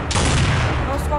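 A single AWP sniper rifle no-scope shot in Counter-Strike 1.6, a sharp loud blast with a short rumbling tail lasting about a second.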